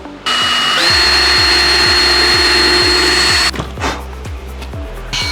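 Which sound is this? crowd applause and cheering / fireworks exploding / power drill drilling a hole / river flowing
power drill drilling a hole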